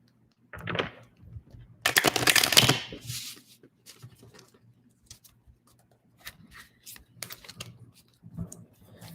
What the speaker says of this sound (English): Just give me a second here to shuffle the cards.